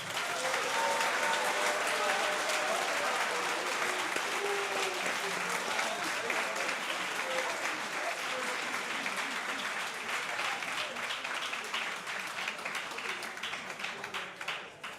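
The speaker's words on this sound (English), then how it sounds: "Let's give them all a big round of applause." A big round of applause from a talent show audience, dense and sustained for about fifteen seconds and slowly tapering toward the end, with no talking over it.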